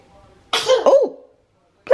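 A single sneeze bursts out close by, sharp and brief, followed by a moment of silence before another voice begins.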